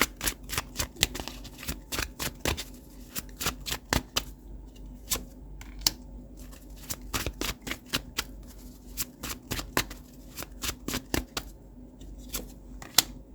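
Tarot cards are shuffled by hand in rapid bursts of crisp, papery riffling clicks that come in irregular runs with short pauses, close and clear, with no voices.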